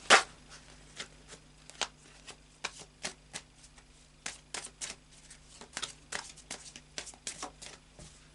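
A deck of tarot cards being shuffled by hand, a rapid series of crisp, close snaps and riffles in an irregular rhythm against a quiet background.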